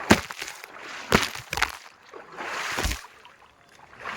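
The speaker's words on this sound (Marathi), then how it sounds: "पाणी उडव" Water splashed by friends playing at a resort pool, with several loud, sharp splash bursts and churning in between, close by and fairly irregular in rhythm.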